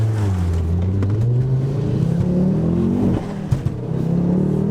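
A wrecked, 150,000-mile Mk2 Ford Focus RS engine runs close by with a steady, throaty drone that rises and falls slightly, with no talk over it.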